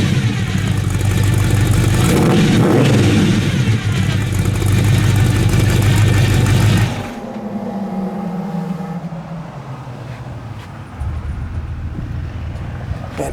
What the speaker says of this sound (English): Got beautiful sounding dual exhaust.